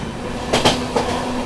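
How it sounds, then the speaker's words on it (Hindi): The 12393 Sampoorna Kranti Express runs along the rails, a steady rumble with a couple of brief clicks of wheels over joints. "चलिए रफ्तार पकड़ ली अपनी संपूर्ण ने भी।"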